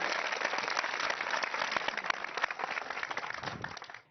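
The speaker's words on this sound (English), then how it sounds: "Give her a big round of applause." Studio audience applauding a weight-loss success guest on a Medifast commercial, a steady dense patter of many hands clapping close by for about four seconds before cutting off.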